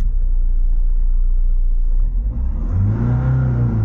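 A Jeep Compass with a check engine light fault starts up after a low idle hum, its engine catching and revving briefly, loud and close with no talk.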